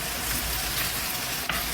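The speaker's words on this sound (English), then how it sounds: "You can see it's still sizzling." Bacon and rice fry in a pan with a steady, dense sizzle. It is close and continuous, with a brief scrape or stir near the end and no talking.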